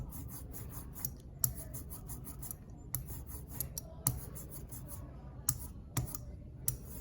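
An ink roller spreads printing ink across a block with a faint, sticky, rasping hiss in repeated strokes, broken by soft clicks and small taps as it passes back and forth close by.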